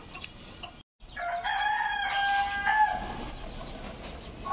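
A rooster crows loudly and close by among chickens on a green rooftop farm, one long drawn-out call over a quiet background with faint clucking.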